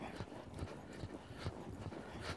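Horse hooves trotting in a rhythmic clip-clop on an arena surface during shoulder-in schooling, steady and fairly close, with no talk over it.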